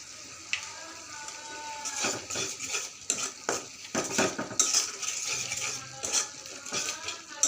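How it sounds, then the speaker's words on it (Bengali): Turmeric and chilli powder stirred in a pan with a little water for hilsa fish curry, a soft sizzle under repeated clinks and scrapes of a metal spoon against the pan, fairly quiet and close. "মশলা ভালো করে কষিয়ে নিচ্ছি"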